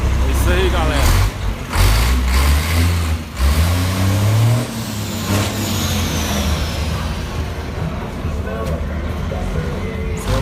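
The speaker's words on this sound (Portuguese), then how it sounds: "Esse é o caminhão do Zé Maria Reis" A Copa Truck racing truck runs at the Autódromo de Goiânia racetrack, its engine rumbling loudly and steadily throughout while people talk over it.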